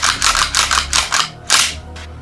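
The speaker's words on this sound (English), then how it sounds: "Dry fire it on an empty chamber, obviously." A C93 rifle is racked and dry fired on an empty chamber, a loud, fast series of metallic clacks and snaps up close, then a pause before two final sharp clicks.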